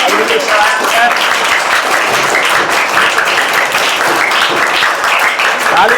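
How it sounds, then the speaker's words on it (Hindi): Loud, steady applause fills the whole stretch as a school group claps for a focal teacher during a Safe Saturday session, dense and continuous, with some voices mixed in. "तो उनके लिए भी जोरदार ताली बजाया जाए।"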